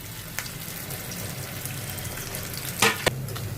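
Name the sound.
potatoes frying in oil in a wok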